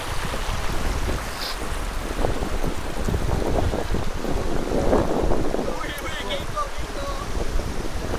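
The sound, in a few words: mountain river stream flowing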